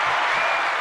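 A brief, dense wash of applause, loud and steady, filling under a second without any talk over it.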